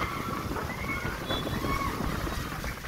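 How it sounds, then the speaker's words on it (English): Strong wind roars across a stormy sea, a steady close rush and buffeting on the microphone with a low, churning rumble beneath, continuous throughout. "So there's a lot of wind."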